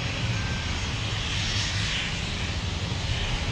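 An airliner's engines roar steadily during takeoff from runway 17 at Minneapolis–Saint Paul airport, a loud, broad, continuous rumble with no breaks.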